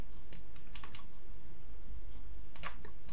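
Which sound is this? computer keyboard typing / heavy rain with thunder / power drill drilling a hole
computer keyboard typing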